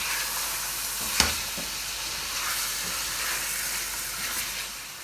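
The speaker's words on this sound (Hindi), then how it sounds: "अब हम इसको भूनेंगे" Meat for achari gosht fries with ginger in a pan, giving a constant close hissing sizzle with one sharp utensil knock near the start and soft stirring scrapes, no talking.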